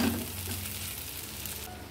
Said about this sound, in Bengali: এই যে ভাজা উচ্ছেগুলো আমি এর মধ্যে দিয়ে দিই